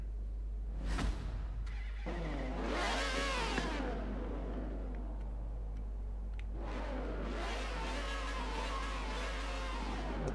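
A Maserati engine in a video game cranks and starts, then revs up loudly twice with long rising and falling whines over a steady low drone, with no talking.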